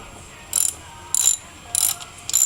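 A ratchet cranks down bolts while fitting a budget grounding kit, in four short bursts of rapid clicking separated by pauses, close and fairly loud with no talk.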